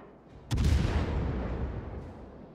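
Ship's guns fire in a World of Warships clan battle, with a single deep, booming salvo that rolls and fades slowly over a couple of seconds against a low background.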